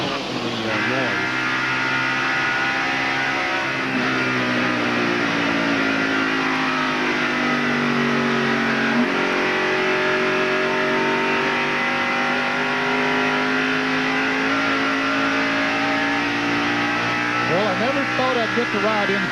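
A 1991 NASCAR Winston Cup race car screams at high revs around Darlington Raceway during the Southern 500, a loud sustained engine whine whose pitch rises and falls with the throttle, with a voice talking over it.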